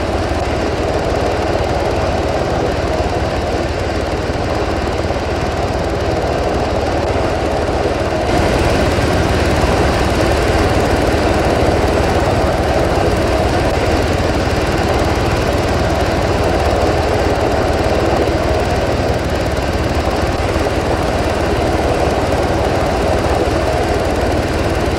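A helicopter engine in Arma 3 produces a loud, continuous turbine drone and rotor rumble for the whole stretch, with a slight rise in intensity partway through and no talking over it.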